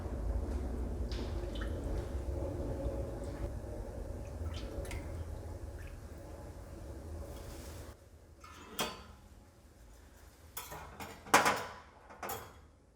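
A utensil stirs cheese culture into milk in a pot with a soft, steady liquid swish and low churning, close and fairly quiet, then breaks into scattered metallic clinks and knocks against the pot's rim toward the end.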